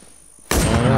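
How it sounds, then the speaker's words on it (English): A shotgun blast in the video game WarZ, a single loud burst that cuts in sharply midway and stays dense and booming to the end, with no voices over it. "I think that's a shotgun"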